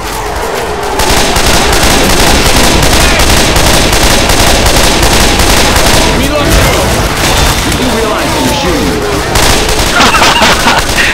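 Loud, dense gunfire in Left 4 Dead 2 during a tank attack near a Humvee, rapid bursts and booms nearly continuous across the clip, with voices faintly underneath.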